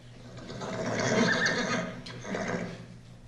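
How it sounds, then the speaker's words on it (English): A horse whinnies loudly and at length, its cry rising and then trailing off, with a second shorter neigh following close by. "The horse."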